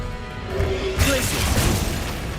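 Confringo fire blast spell in the video game Hogwarts Legacy: a loud, close crashing burst hits about a second in and rumbles on, heavy and noisy, over the game's background sound.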